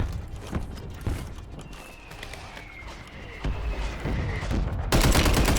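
Warzone gunfire cracks out as scattered single shots and short bursts, near and far, over game ambience, growing denser and louder toward the end while a voice talks.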